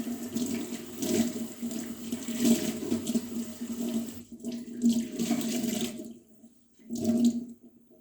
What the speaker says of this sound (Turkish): Ellerimi de yıkayayım hemen devam edelim